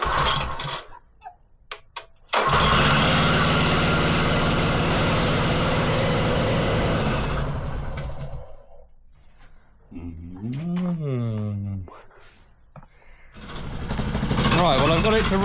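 A Wacker Neuson VP1030 plate compactor's small petrol engine starts after a few pulls and runs loud and close, then dies back. Someone talks in the gaps before it revs up again with a rising and falling whine.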